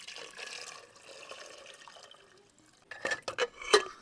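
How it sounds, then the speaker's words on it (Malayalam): Water poured into a pressure cooker holding potatoes, a soft uneven trickle for a few seconds followed by several sharp splashes and metallic clinks close by. "നമുക്ക് കുറച്ച് വെള്ളം കൂടെ ഒഴിച്ചു കൊടുക്കാം"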